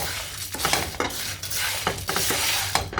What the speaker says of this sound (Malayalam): നല്ലവണ്ണം ഒന്ന് ഇളക്കാം.